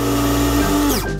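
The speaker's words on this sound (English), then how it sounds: "And I'll blend the milk on my own as well." A small electric blender or frother whirs steadily as it mixes milk for coffee, its motor tone holding close and loud before winding down at the end.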